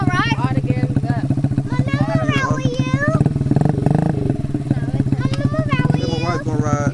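A dirt bike engine idles and revs in a steady rapid putter, close by, while people talk and call out over it throughout.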